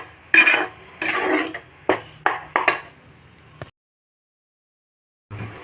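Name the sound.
stirring thuthuvalai leaf pickle mixture in a pan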